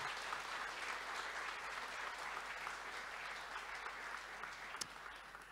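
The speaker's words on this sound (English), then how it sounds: "big round of applause" An audience at an investors' summit applauds in a steady, even wash of clapping that holds for several seconds, sounding distant and fairly faint.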